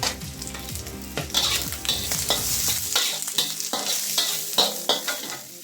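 Garlic and caramelizing onion sizzle in a pan while being stirred, a steady frying hiss broken by repeated scraping strokes, close and clear with no talking.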